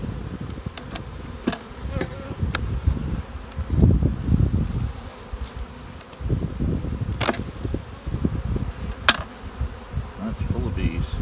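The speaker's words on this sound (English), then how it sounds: "That's full of bees." Honey bees buzzing steadily in a split colony hive, a dense close drone with individual bees zipping past, occasional sharp clicks and handling knocks.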